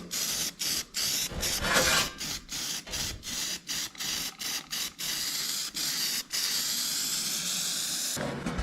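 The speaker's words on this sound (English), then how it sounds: "hit it with some weld through primer" Weld-through primer sprayed from an aerosol can onto a Datsun truck body panel, a close hissing spray in a series of short rhythmic bursts that ends in one longer continuous spray.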